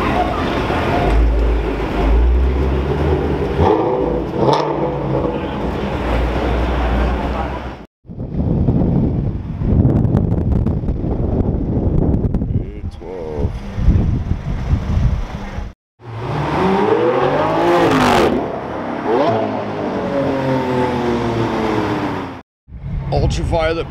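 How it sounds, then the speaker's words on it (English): A Porsche GT3 RS in ultraviolet purple satin drives past with a loud engine roar rising and fading, mixed with heavy wind buffeting on the microphone, in several bursts. "Ultraviolet purple satin GT3 RS right there."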